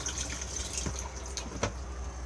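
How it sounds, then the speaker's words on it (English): Water rushes steadily through a Thetford cassette toilet in an Auto-Trail V-Line 635 SE motorhome as it flushes, a continuous close pour with a few small clicks and splashes near the end. "blue button to flush"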